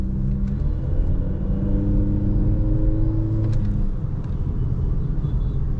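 A 2024 Honda Amaze facelift accelerates under load, its engine droning and rising in a steady, loud rumble with gearbox whir, continuous throughout with no talk.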